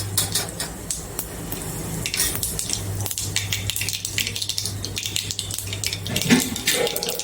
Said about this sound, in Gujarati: તો હવે રાઈ અને જીરું મેં મિક્સ કરી રાખ્યા છે તે આપણે નાખીશું અને હિંગ નાખીશું